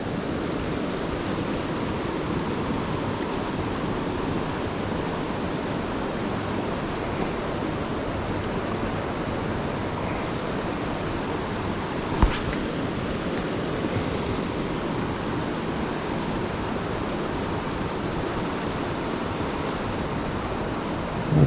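The Tyenna River in Tasmania runs strong and fast, giving a steady, dense wash of rushing water close by that holds level throughout, with one faint knock midway and no talking.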